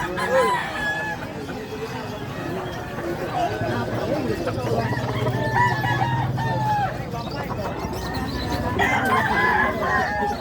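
Roosters crow and hens cluck repeatedly among a bustling crowd at a chicken market, with lively bargaining voices talking over the birds throughout.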